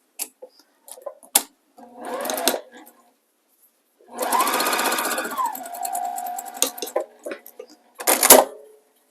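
A sewing machine stitches a diagonal seam on quilt binding, running in short bursts separated by pauses, with one longer steady run in the middle; sharp clicks and clunks mark the stops and starts.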